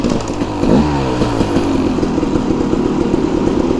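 A KTM 300 enduro two-stroke motorcycle rides close by through an urban setting, engine revving and holding a steady, loud drone with rising pitch sweeps early on and no talk over it.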